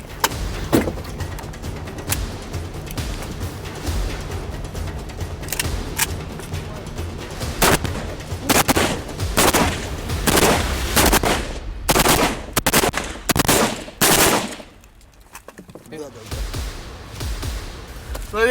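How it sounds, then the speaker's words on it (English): An AK-47 rifle fires in a series of loud, sharp shots, some single and some in quick bursts, over steady background noise, with a brief quieter pause near the end. "Right now he's got an AK-47 that he needs to assemble, fire, and then disassemble."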